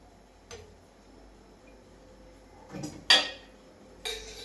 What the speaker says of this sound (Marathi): आता आपण एक पॅन ठेवले, त्याच्यामध्ये आता आपण 2 चम्मच तेल टाकणार आहोत